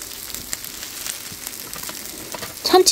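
A tuna and enoki mushroom pancake fries in a pan with a steady soft sizzle, a louder brief crackle flaring at the very end; no talk.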